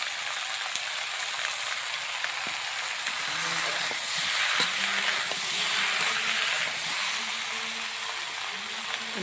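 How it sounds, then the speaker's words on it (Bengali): Eggplant, pointed gourd, potato, bitter gourd and okra stir-fry in a pan, making a steady, moderate sizzle and hiss throughout, with a faint voice and a few soft stirring knocks midway. "একটু কষিয়ে নেব।"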